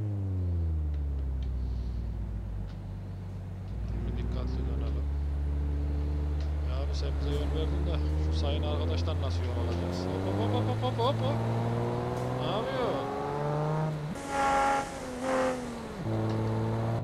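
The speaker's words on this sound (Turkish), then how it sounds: "aracın motor sesiyle şöyle egzoz sesini biraz yükseltsek ne olur?" A Nissan GT-R engine and exhaust in Euro Truck Simulator 2 revs repeatedly, its loud droning note climbing and dropping in pitch through gear changes, with a voice talking over it.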